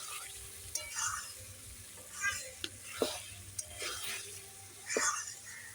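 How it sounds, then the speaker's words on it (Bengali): Chicken being stirred and fried in a pan during rooftop picnic-style cooking: soft sizzling with light scraping strokes and a few sharp clacks of a spoon against the pan, fairly close and quiet. "এখন আমি আরেকটু নেড়ে দিলাম নেড়ে দিয়ে দিয়ে আস্তে আস্তে কষিয়ে নিচ্ছি চিকেনটা"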